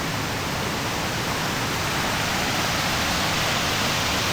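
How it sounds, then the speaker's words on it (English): A waterfall in Pisgah forest pours with a loud, unbroken broadband rush of water, close and steady throughout, with no voices. "Had to stop and look at the waterfall."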